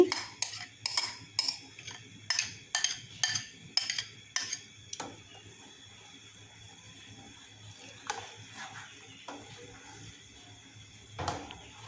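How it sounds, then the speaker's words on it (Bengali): Palm juice stirred into heated milk in a pot, with a run of regular metallic clinks from a spoon striking the vessel, then a few sparse, quieter taps, all close and without speech. "তালের রস দিয়ে ভালো করে মিশিয়ে নিচ্ছি।"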